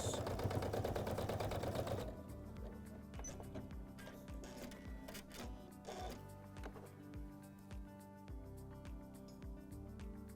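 A Janome sewing machine with an AcuFeed foot sews in a zipper, running in a fast, steady mechanical rattle, then settling into a slower rhythmic stitching with regular clicks.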